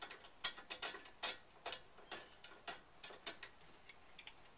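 Male hex nipple fitting being hand-threaded onto a Rob Allen spear gun: a steady run of faint, crisp ratcheting ticks and clicks, evenly spaced, with no talking.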